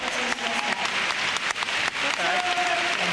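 Applause for a figure skater at the 2009 Grand Prix Final, a steady wash of arena clapping from a large crowd with commentary speech over it.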